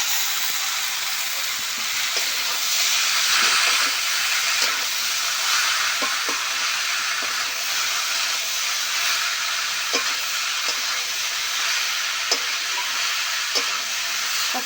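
Boiled cabbage frying with spiced potatoes in a hot pan, a loud continuous hiss and sizzle with faint scattered clicks of stirring throughout.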